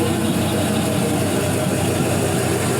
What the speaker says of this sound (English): Great little 300 horsepower power plant here.